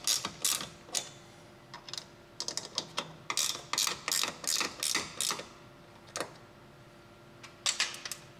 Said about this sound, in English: Now we're going to go ahead and tighten up the bolts connecting the ladder to the clamp plate.